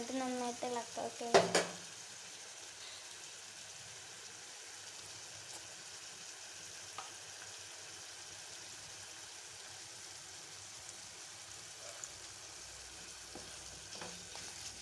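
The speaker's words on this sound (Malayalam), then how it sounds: "എന്നിട്ട് നന്നായിട്ട് ഇളക്കുന്നുണ്ട്." An onion and tamarind mixture for a pearl spot fish dish is stirred in a cooking pan: a few loud scraping clinks at first, then a soft, steady bubbling sizzle alone.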